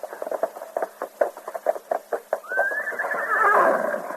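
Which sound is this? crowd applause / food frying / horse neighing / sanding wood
horse neighing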